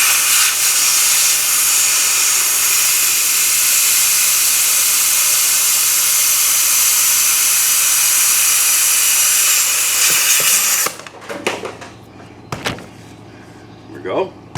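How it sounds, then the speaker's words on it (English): Compressed air from an air compressor tank hisses loudly and steadily into a lawn mower tire for about ten seconds, then cuts off, followed by clicks, clunks and handling noises. "we should have enough air in our tanks out there to put a little air in here"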